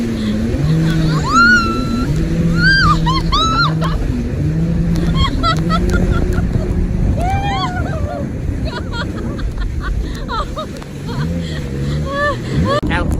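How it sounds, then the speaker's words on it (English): A jet ski rides over ocean waves off Patong Beach in Phuket, Thailand, its engine droning steadily and close throughout, with people's voices calling out over it. "Out here on the jet skis, going crazy."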